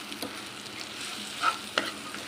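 Chickpea flour batter with capsicum being scrambled in a pan: a quiet, soft sizzle with faint scraping and a couple of light clicks from the utensil.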